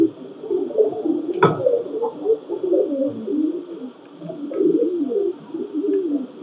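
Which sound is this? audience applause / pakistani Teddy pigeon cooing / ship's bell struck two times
pakistani Teddy pigeon cooing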